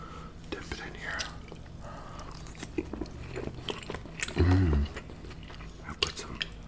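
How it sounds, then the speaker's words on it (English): Crunchy fries being dipped in spicy cilantro sauce and bitten at close range, a few crisp chewing crunches alongside soft whispering and mouth sounds, with one louder bite-and-chew burst partway through. "So we're gonna take some of the fries, dip it in here."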